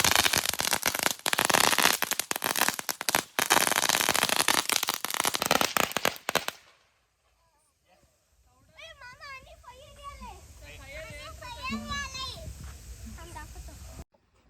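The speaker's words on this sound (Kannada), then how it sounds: "ಮಾವ ಮಕ್ಕಳನ್ನ ಹೊರಗೆ ಕರ್ಕೊಂಡು ಹೋಗ್ತಾ ಇದ್ದಾರೆ ಪಟಾಕಿ ಹೊಡೆಯೋದಕ್ಕೆ" Diwali firecrackers bursting outdoors in a rapid, dense run of loud crackling pops for several seconds, then stopping, followed by children talking and playing.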